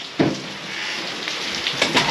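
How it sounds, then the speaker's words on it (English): Steady rain falls outdoors, a continuous hiss of drops on surfaces with a few louder splashes, moderately loud and with no talk. "We're getting that rain."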